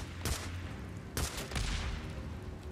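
Sniper rifle shots in the video game Days Gone, two loud sharp cracks about a second apart with a booming tail, followed by fainter rumbling gunfire.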